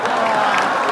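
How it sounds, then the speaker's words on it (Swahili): A school audience at Kebirigo Boys National School claps together, a dense, steady wash of applause that fills the whole moment without a break. "Pige makofi."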